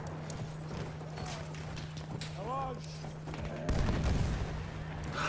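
Horse hooves clip-clop in a Battlefield 1 match, rhythmic trotting beats mixed with bursts of gunfire, a whinny, and a player chatting over the game.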